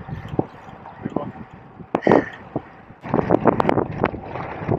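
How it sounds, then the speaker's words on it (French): Wind blowing outdoors in the Alps, gusting across the microphone in rough bursts that grow louder and denser toward the end, with voices speaking over it. "Il y a du vent, hein."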